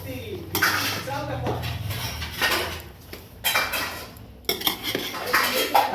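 A ladle scrapes and clanks against a metal cooking pot as gravy is stirred, repeated knocks and scraping strokes close by, with people talking over it.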